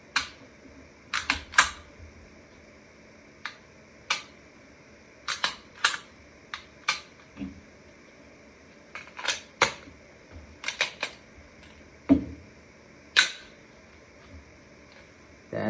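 Sharp mechanical clicks from a Springfield XD-M Elite 3.8 OSP pistol during a function check come in irregular single and clustered snaps, close and crisp against a quiet background.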